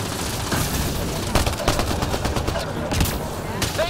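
Rapid, continuous gunshots and automatic fire in a Mass Effect Andromeda battle, loud and dense throughout with game voices in the mix.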